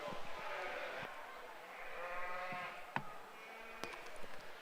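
Dorset ewes bleat at a Canadian Western Agribition sheep show in Regina, Saskatchewan, their wavering cries rising over a steady hall murmur while voices carry on nearby.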